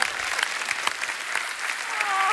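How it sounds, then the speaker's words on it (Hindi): Applause from a studio audience on a TV comedy show, a dense, steady patter of many hands clapping with occasional sharper claps, moderately loud and lasting the whole short stretch. "जोरदार तालियां हो जाए बब्बर फैमिली के लिए।"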